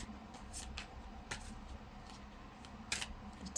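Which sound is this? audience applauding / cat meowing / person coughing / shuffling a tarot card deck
shuffling a tarot card deck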